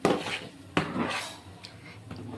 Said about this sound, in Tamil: இந்த கையில் கிண்டிக்கிட்டு இருக்கோம், ஆடி விடாமல் கொஞ்சம் சிம்மில் வச்சு.